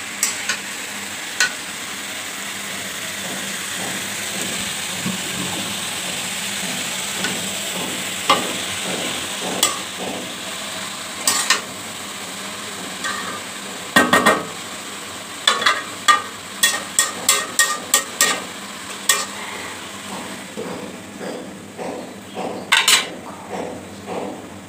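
Cabbage and green chillies sizzle steadily in a pan while a utensil stirs them, scraping and clinking against the metal in sharp irregular bursts that grow busier toward the end, with no one talking.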